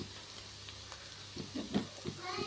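Green chilies drop into ginger-garlic paste frying in a pan for egg biryani, giving a soft, steady sizzle with a few louder crackling bursts toward the end, no talking.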